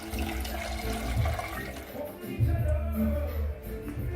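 Water splashes and gurgles steadily into a pot, a continuous pouring sound at close range with faint background noise.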